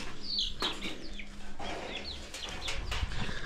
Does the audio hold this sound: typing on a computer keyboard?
no